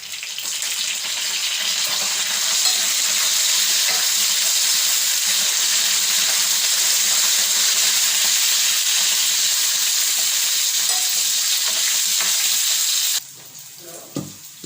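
Onions and curry leaves fry in a pan for gongura dal, giving a loud, steady, close sizzle that runs unbroken for about thirteen seconds and then stops abruptly, leaving near silence.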